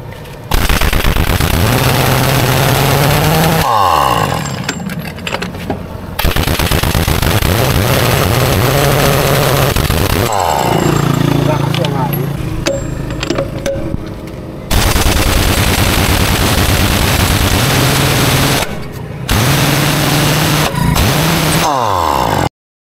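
A Wheeler 1-inch impact wrench hammers in long, loud, rapid-fire bursts, each run several seconds long with short pauses between them, rattling like machine-gun fire close up.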